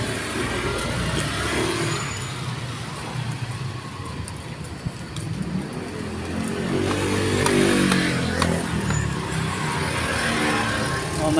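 Steady road traffic on a narrow street used by motorcycles, engines droning and passing continuously at moderate distance, swelling louder toward the end with no talk over it.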